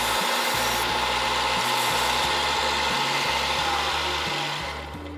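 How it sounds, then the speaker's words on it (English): A belt sander runs in a framebuilding shop, giving a steady, loud, continuous motor whine and abrasive hiss with a low hum that pulses slightly, then eases off near the end. No one speaks. "Back to the belt sander."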